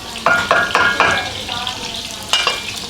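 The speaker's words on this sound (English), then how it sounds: "cooking the rabbit in this beautiful, aromatic, fragrant oil" Shallots and rabbit fry in aromatic oil with a steady close sizzle, broken by several sharp stirring scrapes and clatters at regular intervals, with no voices.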